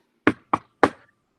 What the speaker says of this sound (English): I hear a knocking at the south entry